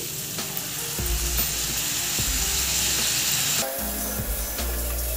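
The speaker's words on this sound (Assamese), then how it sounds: "এইখিনি এতিয়া খুব ধুনীয়াকৈ এটা ভাজিব লাগিব" Ginger, garlic, dried chili and jaluk frying in hot oil, a loud continuous sizzle with several sharp clatters of a spatula against the pan.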